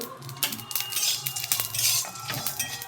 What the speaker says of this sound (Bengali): কড়াইটা খুব গরম, দেওয়ার সঙ্গেই চচ্চর করে একটা আওয়াজ হচ্ছে